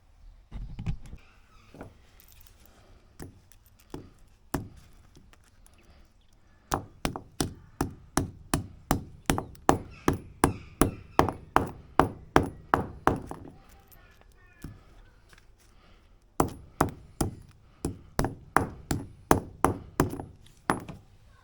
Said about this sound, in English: use the hammer and flatten the end here